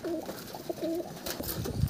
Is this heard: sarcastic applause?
no